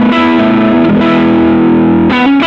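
Electric guitar through the Chase Bliss Brothers AM pedal on its high gain channel, a thick distorted chord sustaining loudly and close, with a couple of note changes and a fresh strum near the end.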